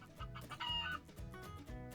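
Chickens in the Minecraft video game cluck in a quick series of short, repeated clucks at a fairly even rhythm, clear and moderately loud with no talking.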